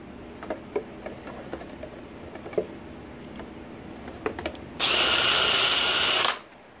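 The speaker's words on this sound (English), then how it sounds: "get a sharp drill bit" A power drill whirs loudly for about a second and a half, boring through plastic, after a few faint clicks and taps, then cuts off.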